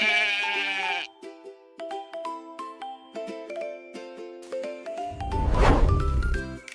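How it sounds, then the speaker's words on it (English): A sheep bleats loudly and close up for several seconds, a wavering nasal cry with a rough, buzzy edge, following a bright musical jingle that plays alone beforehand. "S is for sheep."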